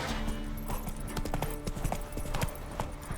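Horse hooves clip-clopping in The Witcher 3 video game, a quick, uneven run of sharp hoof strikes over a steady tonal backdrop, close and clear, with a brief voice underneath.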